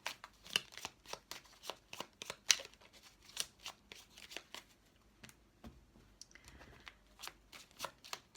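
Tarot cards are shuffled close by in quick, irregular riffling bursts, soft papery slaps and flicks repeating steadily throughout.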